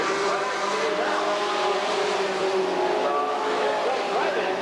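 Sportsman stock cars race at Redwood Acres Raceway, several engines roaring together in a steady, loud, continuous drone with shifting pitches as cars pass.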